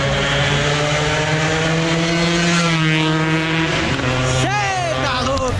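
A Yamaha RD135 two-stroke motorcycle engine drones loudly and steadily, its pitch shifting as it passes close by on a street, with a sharp rising whine near the end.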